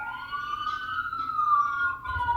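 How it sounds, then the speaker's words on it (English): A police siren wails outside, a loud rising and falling tone that sweeps up and slowly drifts back down over a faint low rumble. "Oh, you guys hear the siren?"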